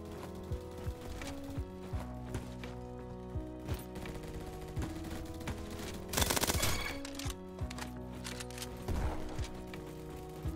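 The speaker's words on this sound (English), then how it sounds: "This FAMAS does a lot of damage, but has insane recoil." A FAMAS rifle with heavy recoil and high damage fires in the Roblox shooter Bad Business, with short bursts of shots over a steady game music bed. One dense volley stands out near the middle and another comes later.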